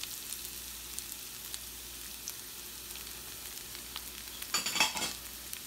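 Onions with red and green peppers sauté for meatloaf, a faint, steady hiss in the pan broken by light stirring ticks and a brief louder scrape of the utensil near the end, with no one speaking.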